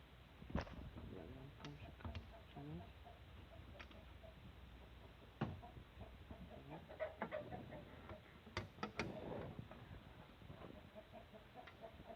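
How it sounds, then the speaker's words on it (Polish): On a Silesian farm, chickens cluck in scattered bursts mixed with sharp ticking knocks. The sound is faint and close, with a person talking now and then. "widzicie. Kury."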